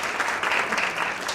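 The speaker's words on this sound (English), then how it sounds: "Let's give her a round of applause." An audience at an HBCU pre-law event claps steadily, a short stretch of continuous, fairly loud applause with no pause.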